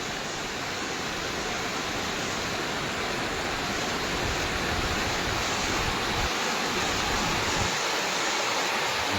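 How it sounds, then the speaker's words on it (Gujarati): Water gushes continuously from an overflowing old lake outlet, a dense, loud, unbroken roar of falling water heard up close with no voices. "આ નિકાળનો આપણો જૂના તળાવનો નિકાળ છે. આ જો પાણી કેવું પડે"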